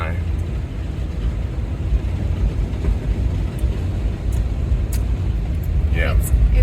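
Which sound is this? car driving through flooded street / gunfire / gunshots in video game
car driving through flooded street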